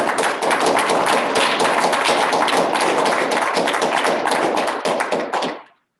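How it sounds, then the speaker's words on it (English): An audience at an Urbit meetup gives a round of applause after a talk, with dense, even clapping from a crowd for about five seconds before it cuts off. "why don't we all give Simon a round of applause?"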